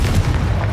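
A single deep, booming blast from the Confringo spell in a Harry Potter video game, a close, heavy explosion that fills the whole brief moment on its own.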